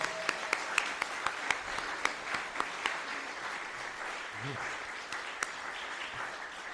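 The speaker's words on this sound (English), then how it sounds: "can we get a real quick round of applause for Pam Arbor-Green for pulling it together?" A church congregation gives a quick round of applause, a spread of hands clapping with a few sharp individual claps standing out, moderately close and tapering off. A voice murmurs briefly partway through.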